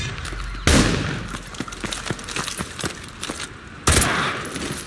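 Rapid gunfire in Call of Duty Modern Warfare 2 Remastered, a loud blast opening a string of sharp, quick shots close by, ending in another heavy burst.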